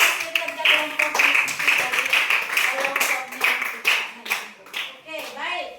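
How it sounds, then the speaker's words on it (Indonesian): Schoolchildren in a classroom clap for a group's work, a loud, uneven burst of many hands with irregular rhythm, children's voices chattering over the clapping near the end. "mari kita tepuk tangan dulu untuk hasil kerja kelompoknya"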